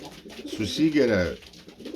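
Pigeons cooing nearby in a loft, a short, close, throaty coo rising and falling over about a second, with soft ambient sound around it.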